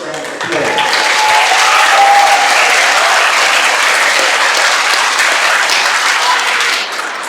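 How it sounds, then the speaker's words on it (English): Sustained, loud applause from an audience at a middle school Black History program, a dense wash of many hands clapping that swells in and holds steady for several seconds before easing off. "Can we give Candy Colewood and the HMS Sports and the Shoes for another round of applause?"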